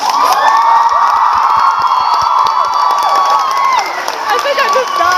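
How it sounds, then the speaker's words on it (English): Crowd at a New York book signing cheering loudly, with high-pitched shrieks and screams, excited voices and scattered clapping in a dense, continuous roar. "One more round of applause."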